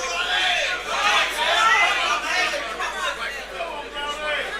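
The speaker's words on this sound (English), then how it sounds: "The crowd is noisy here tonight." Noisy crowd chatter fills a snooker hall during a men's teams final, a steady murmur of many voices throughout, fairly loud and continuous with occasional louder bursts.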